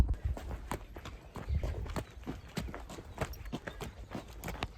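Horses' hooves clip-clop steadily on a hard surface at close range as the horses are let out of the stable, an irregular walking rhythm with faint movement noise around it.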